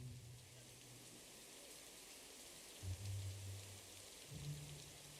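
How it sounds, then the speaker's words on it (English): Rain in the video game Pillars of Eternity Deadfire, a soft steady hiss of falling drops, faint and continuous, with a few low rumbles rising briefly beneath. "Oh, it's raining."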